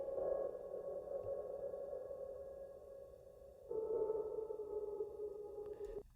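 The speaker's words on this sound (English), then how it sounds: "We've got this submarine type sound effect." A submarine-style sonar sound effect in an electronic music production holds a steady tonal drone, then steps to a new level partway through, sounding alone and fairly quiet with no speech.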